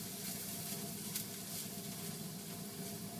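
Kale coated in an oil, garlic and onion mixture cooks in a pan, a soft steady sizzle heard close, fairly quiet and continuous, with a low hum underneath and no talking.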